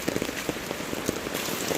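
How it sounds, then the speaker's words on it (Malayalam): Steady heavy rain patters densely on a surface, a constant wash of drops with no voices. "മഴ, ഭയങ്കര മഴ, നല്ല മഴയുണ്ട് അല്ലേ?"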